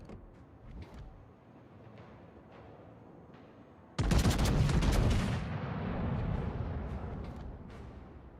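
Naval guns fire in the World of Warships game, a few soft distant reports followed by one loud, sudden broadside blast that rolls into a long decaying rumble.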